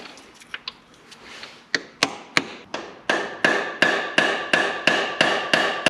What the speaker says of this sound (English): let's now see if I can smash this T60 socket into it.